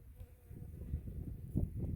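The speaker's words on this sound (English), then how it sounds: "just let the bees come and enjoy some flowers" Bees buzzing around flowering bok choy, a faint, low humming drone that swells and fades as they move close by.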